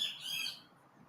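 Birds squawking outdoors, one harsh high squawk that fades within about half a second, faint and somewhat distant, with no talk.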